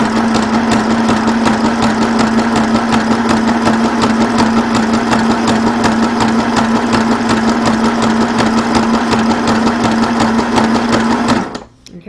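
A Janome Sew Mini sewing machine stitches around a corner, a loud, close, rapid mechanical chatter running steadily for about eleven seconds before stopping abruptly, with no talking.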